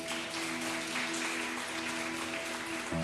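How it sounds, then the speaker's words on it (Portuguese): Church congregation applauds during a sermon, a soft, even wash of clapping heard at a distance over a steady sustained tone in the room. "Aplauda o Senhor por isso"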